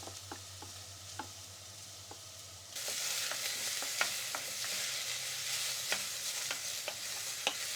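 Two soup ingredients are stirred together in a cooking pot. A quiet start with a few light knocks gives way to a louder steady sizzle, with regular scraping and tapping strokes of the utensil.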